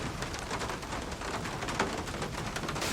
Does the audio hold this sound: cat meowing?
no